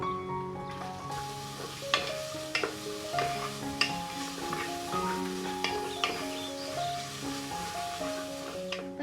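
Chopped onions go into hot oil with crushed ginger and garlic for a home-style mutton mandi, giving a steady sizzle with occasional stirring scrapes and knocks, over soft background music.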